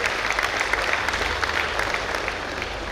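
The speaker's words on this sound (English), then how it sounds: "Let's give a round of applause to all our incoming leaders, friends." An audience at a Rotary International District 3181 gathering claps for incoming leaders, a sustained, fairly loud round of applause with scattered sharper claps standing out, no voices over it.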